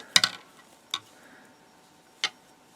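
A few sharp clicks of knitting needles tapping a table: a quick double clack, then two single knocks spaced apart in a quiet room.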